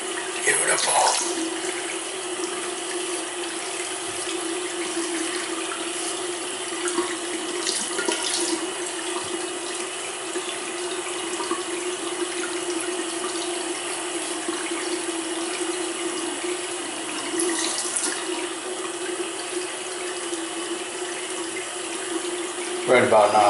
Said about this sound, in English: why do you leave the water running, Dougie?